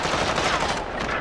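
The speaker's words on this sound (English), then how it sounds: "Someone shooting." Gunfire in Call of Duty: Warzone, a dense, continuous burst of shots filling the whole moment at steady loudness, with no voices over it.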